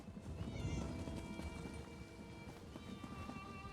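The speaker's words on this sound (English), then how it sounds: "Again, I heard a kitty cat." A cat meows in the video game The Elder Scrolls Online, a faint short call heard over busy game ambience with footsteps and background noise, no talking.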